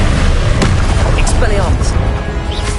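Confringo spell explosions go off during a troll titan boss fight in Hogwarts Legacy, a dense run of loud booming blasts and bursts layered over a constant rumble.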